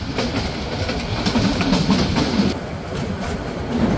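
The Chattogram Mail train rolls into Laksam Junction with a steady, close rumble and repeated clickety-clack of wheels over rail joints.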